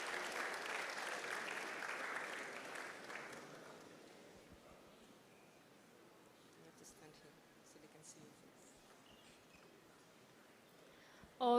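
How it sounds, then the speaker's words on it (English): Graduation-ceremony audience applauds as a speaker walks to the podium: a moderate, fairly distant round of clapping that fades within a few seconds, leaving quiet hall ambience and small shuffling noises. "May we give her a round of applause"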